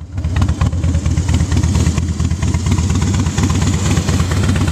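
A 2006 Harley-Davidson Softail Standard motorcycle engine idles close by with a steady, lumpy, loping rumble, loud and uninterrupted throughout.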